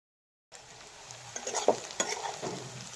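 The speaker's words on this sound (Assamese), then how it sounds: "পিঁয়াজখিনি ভাজি লৈছোঁ ধুনীয়াকৈ।" Onions frying in hot oil in a pan while being stirred, a close crackling sizzle with scraping and clicking stirring strokes, starting abruptly after a brief silence and holding steady, with no voices.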